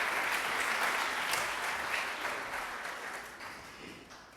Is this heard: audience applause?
yes